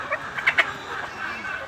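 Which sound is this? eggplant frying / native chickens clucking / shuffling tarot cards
native chickens clucking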